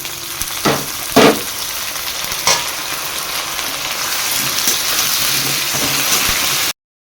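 Chopped potatoes added to frying onions in a pan for a Bengali fish curry, a few loud scraping stirs and clatters at first, then a steady close sizzle that stops abruptly.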